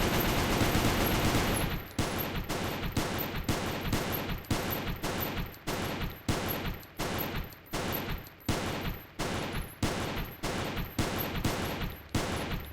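Rapid, evenly spaced shots from a mech-mounted pulse rifle in the Goobstation space-station game: one sustained burst, then about twenty sharp, loud reports in steady rhythm, with no talk.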